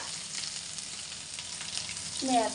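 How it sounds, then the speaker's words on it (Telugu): Ginger, garlic, cumin and green chillies fry in hot oil with a steady, soft sizzle, quiet and close throughout, ending with a faint clink of a utensil. "అల్లం, వెల్లుల్లిపాయలు, జీలకర్ర, పచ్చిమిర్చి వేగేద్దాం"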